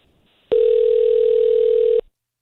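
A single electronic ring tone on an outgoing telephone call, one loud steady tone lasting about a second and a half and then cutting off, with near silence before and after it.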